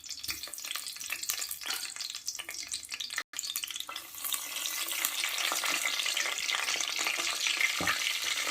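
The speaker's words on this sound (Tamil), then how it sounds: "த்ரீ டீஸ்பூன் எண்ணெய் சூடானதும் பட்டை, சோம்பு சேர்த்துக்கலாம்" Cinnamon, fennel and bay leaf fry in hot oil as the base for a Mughlai chicken biryani. A close, steady sizzle builds and thickens, with brief stirring scrapes and no speech.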